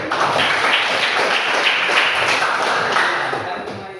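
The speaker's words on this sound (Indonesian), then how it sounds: "Kasih tepuk tangan dulu" Students clapping in a classroom during a teacher's lesson on vernier calipers, a close burst of dense applause that tapers off toward the end.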